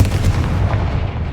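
A Confringo blasting spell goes off in the video game Hogwarts Legacy as a short, loud, deep boom with a rumbling low end, heard alone and close.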